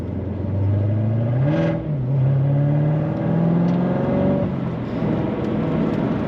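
A 2015 Chevrolet Corvette Z06 Coupe 3LZ accelerating hard on the road, its engine note climbing steadily through the gears with brief dips at shifts, loud and continuous from inside the car.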